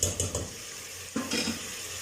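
Mutton for nihari fries in oil with garlic ginger paste, oil separated, sizzling steadily up close while a spoon stirs and scrapes the pot in a few brisk strokes.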